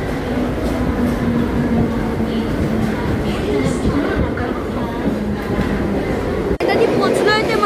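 Mumbai local train running between Kalyan and Thane, a loud continuous rumble and rattle from inside the carriage, with a sudden shift in tone near the end and voices underneath.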